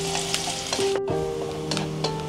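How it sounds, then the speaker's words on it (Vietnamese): Sliced shallots sizzle steadily in a pan of hot oil while a sauce is being started, a close, continuous crackling fry with a few light clinks of utensils and no talk. "em sẽ bắt lên đây một ít dầu, dầu nóng á, em cho hành tím vào."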